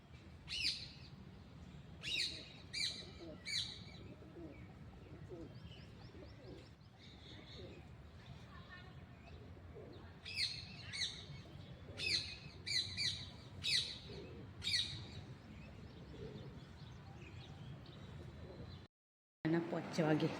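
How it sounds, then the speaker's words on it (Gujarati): Pigeons coo softly while other birds chirp in quick bursts outdoors, the calls recurring over steady low background noise, with a person talking at times. "જો પક્ષીઓનો અવાજ કેવો મસ્ત આવે."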